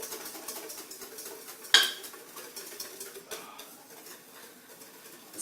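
A whisk beats hollandaise sauce in a large bowl, giving a busy metallic clatter against the bowl's sides, with one sharp loud clink partway through and quieter, steady scraping afterward.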